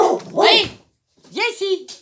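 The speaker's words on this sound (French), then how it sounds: "excusez-moi, c'est mon chien" A pet dog barks twice indoors, close and fairly loud, each a short yelping bark separated by a brief silence, with someone speaking to it in between.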